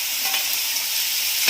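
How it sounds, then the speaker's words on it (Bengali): Fried eggs go into an onion-tomato masala in a hot pan, where a dense, even sizzle hisses close and loud for a moment, ending in a brief low thump, with no speech. "এবারে ভেজে রাখা ডিমগুলো এর উপর থেকে ছেড়ে দিচ্ছি।"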